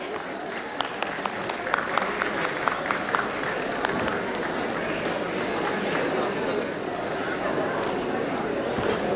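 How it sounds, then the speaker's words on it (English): An audience at a medical college convocation applauds a doctor being welcomed to the stage, steady crowd clapping with sharp individual claps standing out, continuous throughout and moderately loud in a large hall. "Give him a round of applause, you guys."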